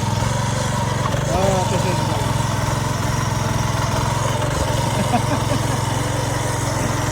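A petrol tractor engine runs steadily while plowing a field, a continuous loud, rumbling drone that holds even throughout with no breaks.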